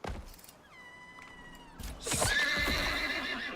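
A horse in the video game Icarus whinnies loudly with a shrill, wavering neigh, following quieter tonal effects and clattering sounds.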